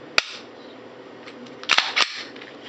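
A Glock 22 Gen 3 pistol is dry fired: one sharp, close click as the trigger breaks, then a pair of quick mechanical clacks a moment later against quiet room noise.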